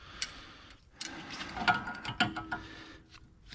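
Channel lock pliers working a wheel bearing nut loose on a Mercedes E320 front hub, giving scattered close metallic clicks and ratcheting scrapes with short pauses between turns, no talking.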